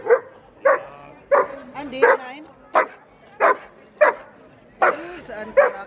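A dog barks repeatedly nearby, about a dozen sharp, evenly spaced woofs and yips, loud and close, with a brief spoken interjection between them.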